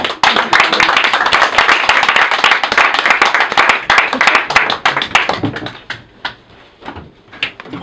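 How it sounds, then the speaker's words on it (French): A comedy show audience claps and applauds loudly for several seconds, then the clapping thins out into a few scattered claps. "On peut les applaudir!"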